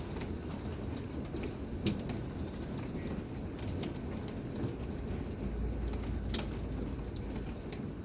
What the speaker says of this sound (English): That is some big hail.